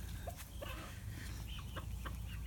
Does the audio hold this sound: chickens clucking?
yes